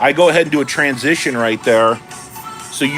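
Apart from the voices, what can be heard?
No everyday noises stand out.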